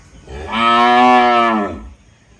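A single loud, drawn-out cow moo, close by, lasting about a second against a quiet background.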